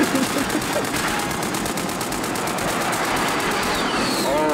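Light machine gun fire in the video game Warzone: long, rapid sustained bursts of automatic shots, loud and continuous, with players talking underneath.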